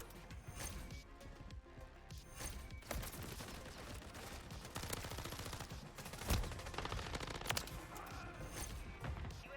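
Renetti SMG fire in Modern Warfare 3 comes as repeated rapid automatic bursts with sharp cracks and impacts, dense and continuous throughout with in-game effects mixed in.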